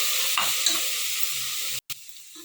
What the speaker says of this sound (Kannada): ಇದು ಒಂದು 3 ನಿಮಿಷ ಚೆನ್ನಾಗಿ ಮಿಕ್ಸ್ ಮಾಡ್ಕೊಳ್ಳೋಣ